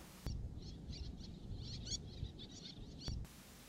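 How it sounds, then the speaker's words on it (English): Faint high chirping calls of little terns (Sternula albifrons) repeat in a rapid, scratchy series over steady low background noise, distant and quiet. "This is the elegant little tern,"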